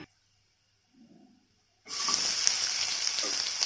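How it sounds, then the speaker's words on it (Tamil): Chopped onion lands in hot oil for a chutney and starts frying, and a steady loud sizzle bursts in after near silence and keeps going to the end. "அதையும் எண்ணெயிலேயே நல்லா வறுத்துக்கலாம்."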